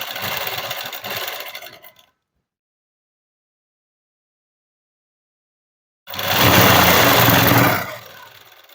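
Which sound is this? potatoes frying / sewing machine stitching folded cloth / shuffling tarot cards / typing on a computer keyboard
sewing machine stitching folded cloth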